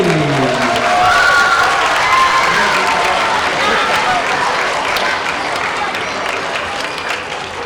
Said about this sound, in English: Another round of applause for first grade.